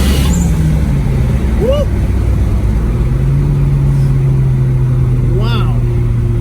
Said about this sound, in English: Here we go, third gear pull.